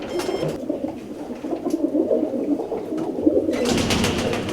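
Young racing pigeons coo in a loft, a close, low, rolling burble of overlapping calls that goes on throughout, with louder rustling toward the end.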